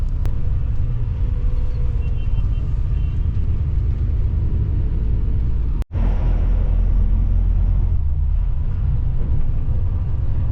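Steady low engine rumble inside a comfortable reclining-seat bus travelling toward the Himalayas from Amritsar, India, continuous and loud with a brief dropout midway and no talking.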